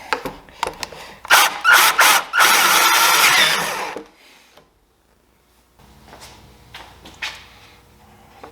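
A cordless drill bores into a plastic gas can in a workshop, several short close bursts of whirring followed by one longer steady run, then a pause and some quieter handling noises.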